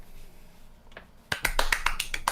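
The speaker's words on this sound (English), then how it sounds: "I start clapping" Hand clapping during a casual talk session, a quick run of about six sharp claps close by, starting after a faint tap and a quiet pause.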